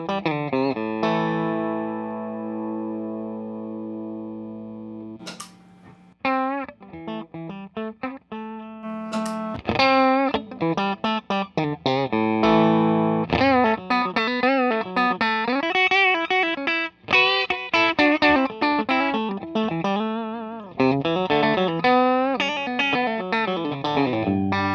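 An electric guitar through a clean boost pedal plays with a bright, lightly driven tone: a long ringing chord, then a lively run of notes and chords.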